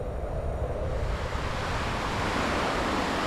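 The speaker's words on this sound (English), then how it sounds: "There's some more wind." Steady, loud wind rushes and roars through a video game fairground near the bumper cars, a constant broadband whoosh with no break and no voices.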